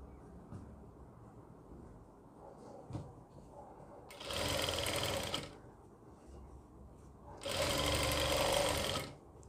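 A sewing machine stitches a designer gown in two loud bursts, each a few seconds long, with quiet pauses in a boutique workroom between them.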